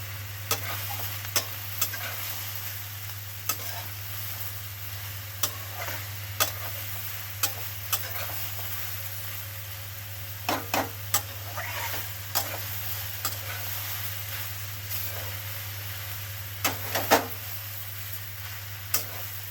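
Jute leaf greens fry in a pan with a soft, steady sizzle, while a spatula stirs them in scattered scraping taps over a constant low hum.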